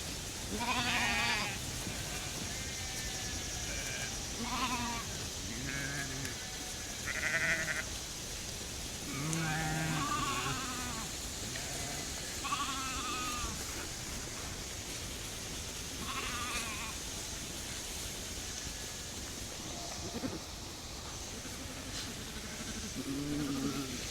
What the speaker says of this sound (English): Sheep are moving.